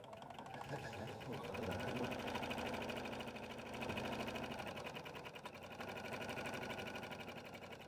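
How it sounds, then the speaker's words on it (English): A sewing machine runs steadily along the long edges of a fabric tote, a continuous close rapid needle chatter with a faint motor hum that hardly varies in level, and no talking. "Let's go sew both these long edges"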